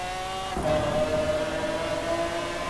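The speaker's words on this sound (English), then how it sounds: "it sounds a lot louder than the original the car's V12 engine, which certainly wasn't this high revving either" A 1995 BMW 850CSi with a V12 engine in the racing game Forza Horizon 4 revs up hard, then holds a steady high-pitched engine whine with rising tones, loud and continuous with no talk.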